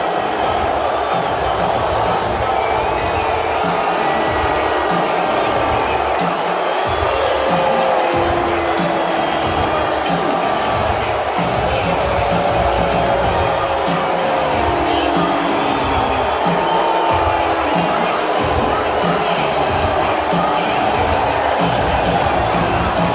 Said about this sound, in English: Here's him getting booed at UFC 244.